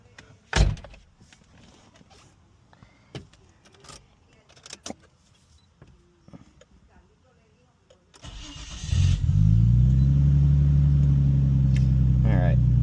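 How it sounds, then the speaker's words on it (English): A Nissan Stagea during an oil change: keys jangle and small clicks and knocks under quiet talk, then the engine cranks and catches, settling into a loud steady idle close by. "so now I'm going to start the engine and bring it down"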